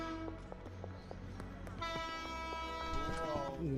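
A train horn honks in long sustained blasts over rumbling rail noise, loud and close, with the pitch bending toward the end.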